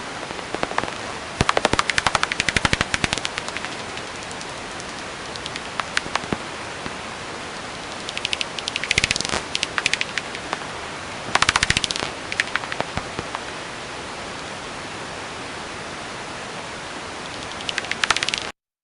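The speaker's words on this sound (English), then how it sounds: "what you will hear is the echolocation calls of this bat. The sound is transformed by a bat detector into noises within our hearing" Bat echolocation calls converted by a bat detector into audible sound, bursts of rapid crackling clicks and rattling pulses over constant hissing noise, coming in irregular clusters that speed up at times, with no talking.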